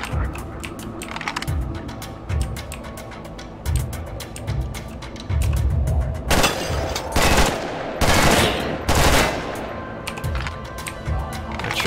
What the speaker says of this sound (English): If I killed him, I shot through the window.